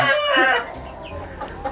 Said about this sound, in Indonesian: kita sudah ada di kandang ayam